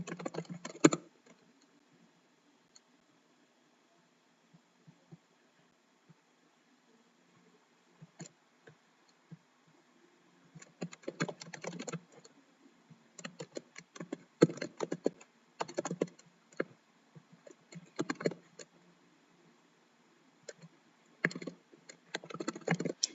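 Typing on a computer keyboard in irregular bursts of quick clicks separated by pauses, close and fairly quiet with no voices.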